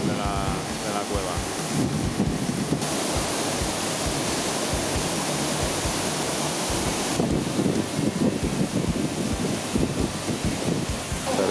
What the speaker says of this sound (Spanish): es una auténtica salvajada la cantidad de agua que cae